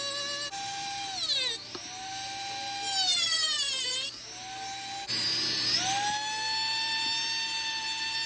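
A high-pitched power drill whines, its pitch rising and falling as it spins up and slows in several runs, with no talking.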